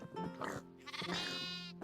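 Sheep bleating in the blocky survival game Terrafirmacraft, two close, loud wavering bleats in quick succession with no talk over them.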